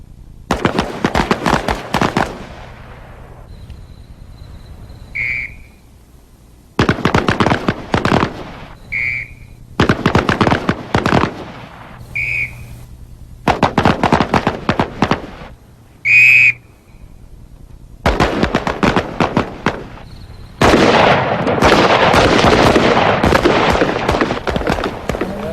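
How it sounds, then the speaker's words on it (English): Soldiers fire sidearms and automatic rifles on a range, close and loud, in dense bursts of rapid shots separated by short silences, with a few high whistle-like tones between bursts and a final long, sustained stretch of fire. "Using a marching and firing technique, the soldiers are judged on shooting accuracy in sidearms and automatic rifles."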